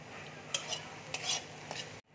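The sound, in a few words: cardamom and cinnamon sizzling in hot oil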